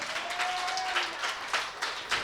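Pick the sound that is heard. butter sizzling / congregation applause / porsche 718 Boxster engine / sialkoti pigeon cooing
congregation applause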